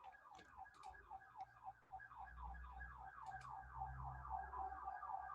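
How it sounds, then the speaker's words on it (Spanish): An alternating two-tone electronic siren wails steadily over faint background sound, rising slightly toward the end as it passes, with two sharp clicks heard briefly. "Es una ambulancia que está pasando."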